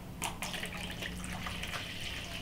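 Water is poured into whipped egg whites and yolks for cake batter, giving a continuous close splashing trickle that starts sharply and runs steadily without speech.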